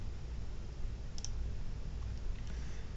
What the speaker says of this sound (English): and I'm going to click Save.